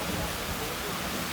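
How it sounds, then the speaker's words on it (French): Water from the Neptune fountain in Barcelona's Ciutadella park splashes in a steady, dense rushing hiss, close and continuous throughout. "C'est une fontaine de toute beauté."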